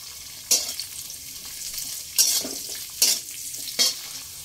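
Chopped carrots and beans fry in oil over a medium flame while a spatula stirs them, giving four sharp scraping bursts over a faint, steady sizzle.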